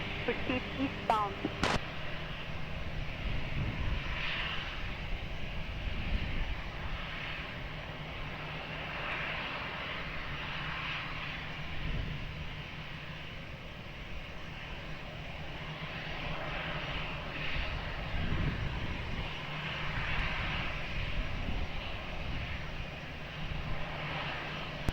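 A plane taking off at Lisbon Airport, a broad continuous engine roar that holds steady at a distance for the whole stretch, with faint voice-like radio chatter underneath.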